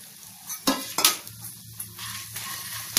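Coriander seeds and turmeric root dry-frying in a pan, stirred with a spoon that scrapes and clinks against the metal in irregular close strokes over a light crackle, no talk.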